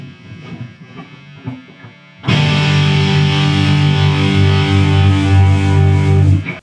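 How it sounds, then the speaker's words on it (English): A Marshall 175 watt guitar amp, cranked up, blasts a loud sustained distorted guitar chord that starts abruptly after a short stretch of quieter noodling and rings out steadily to the end. "Next up, we have a Marshall 175 watt guitar amp."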